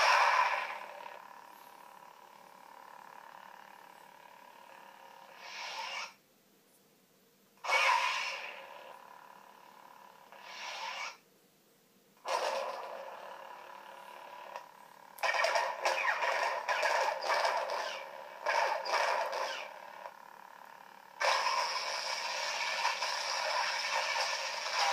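Lightsaber sounds from the Crucible sound font by Nightstorm on an Igniter board, with a steady hum, ignition and retraction surges, and bursts of crackling clash and swing effects, loud and alone.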